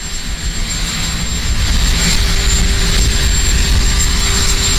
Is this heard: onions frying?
no